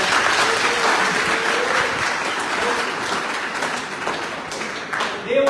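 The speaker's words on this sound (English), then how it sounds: "I will give a good round of applause for this guy." A hearty round of applause breaks out in a room of interview trainees for a US visa interview prep session, dense clapping from a small crowd with a faint voice or two underneath, fading slightly before a final burst.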